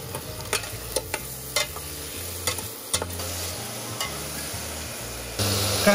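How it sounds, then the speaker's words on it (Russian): Steady sizzle of food frying in a saucepan over low heat, with occasional stirring scrapes and clicks, close and moderately quiet, no voices. "Обжариваем на медленном огне."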